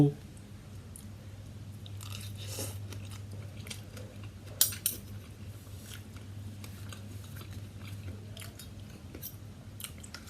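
Spicy Thai pork laab with pork skin being eaten up close: soft, irregular chewing and occasional sharper crunchy bites over a steady low background hum, with no clear talk.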